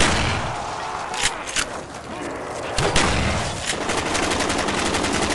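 Repeated launcher shots from the China Lake in Call of Duty Black Ops Zombies, several sharp loud bursts with thumps spread across the clip amid game noise, no speech.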